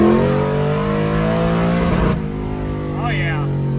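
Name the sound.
car with Turbo 400 transmission accelerating in first gear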